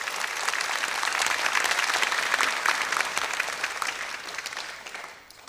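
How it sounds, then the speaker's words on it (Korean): An audience applauds to welcome pianist Kim Jae-won at a summer music school concert, a full, dense round of clapping that swells, holds steady and then tapers off near the end, with no talking over it. "피아니스트 김재원 씨를 박수로 청해 주십시오."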